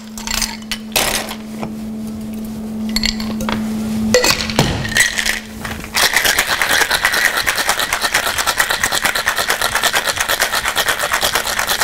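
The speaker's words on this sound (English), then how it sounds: "Plenty of ice." Ice rattles into a cocktail shaker for an egg-white cocktail at a London bar: scattered clinks and clunks, then a loud, fast, rhythmic shaking rattle of ice that continues to the end.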